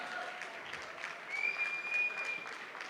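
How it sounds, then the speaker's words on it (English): An audience applauding at an awards ceremony, steady clapping from a crowd that swells briefly mid-way, heard at moderate distance in a large hall. "Please put your hands together. Keep clapping."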